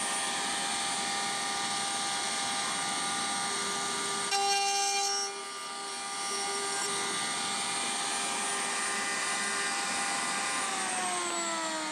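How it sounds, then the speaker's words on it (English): A router cutting a test pass in wood, a loud high-pitched motor whine with a steady tonal hum, dipping briefly midway as the bit bites into the workpiece before resuming, close and continuous. "I'm going to make a test cut and then adjust the depth of the router."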